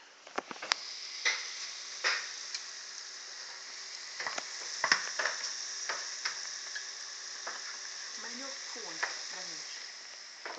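Dumplings fry in a pan with a steady, moderately quiet sizzle and bubbling, broken by scattered crackles and pops throughout.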